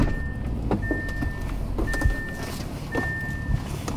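A red car heard from inside, with low engine hum, a few thunks and the whine of electric windows moving in short bursts, fairly close with no talk.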